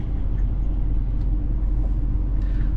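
A vehicle driving around a muddy work site in extreme heat, heard as a steady, heavy low engine rumble that stays constant throughout, close and fairly loud.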